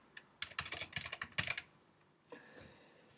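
Quick bursts of keys being typed on a computer keyboard while composing an email, close and clear, with a pause and then a softer run of typing.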